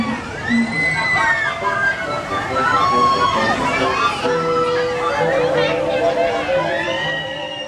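Large crowd at Disneyland's opening day, a continuous dense murmur of many voices with children shouting and cheering, steady and loud with a tonal brass-like strain rising in the second half.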